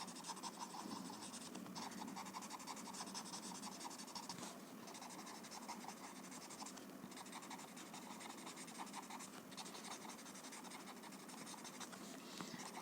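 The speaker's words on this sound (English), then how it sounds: "So just soften the chalk pencil, take off the excess, merge it with the graphite." Chalk pencil rubbed and blended over graphite on paper, a steady dry scratchy rasp of strokes running continuously at close range with brief pauses.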